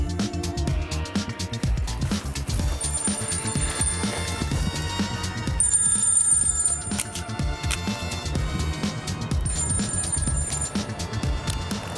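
A mobile phone rings with a repeating electronic ring tone in bursts, sitting over a dense, loud music bed that runs throughout, with no talking.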